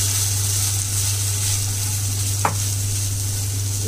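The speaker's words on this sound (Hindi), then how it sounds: "घी हमारा गर्म हो चुका है, हम इसमें साबूदाना डाल देंगे जो हमने सोक करके रखा है।" Soaked sago frying in hot ghee in a wok gives a steady, even sizzle throughout, with one brief clink of a utensil midway.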